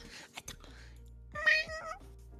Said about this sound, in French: on n'entend pas bien les miaulements